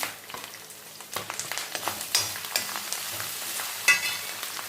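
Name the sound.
curry leaves added to hot oil, frying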